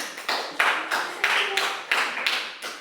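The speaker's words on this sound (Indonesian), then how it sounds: "Kita tepuk tangan untuk Asin dulu." Small groups clap for someone named Asin in a run of short, uneven bursts, each a few seconds of close, brisk claps, with brief gaps between them.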